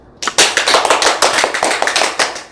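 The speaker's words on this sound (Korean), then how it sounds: "자, 박수로 한번 격려하겠습니다." A small church group claps in encouragement during a Bible storytelling session, a quick burst of close, sharp hand claps that starts abruptly and carries on steadily, with no talking over it.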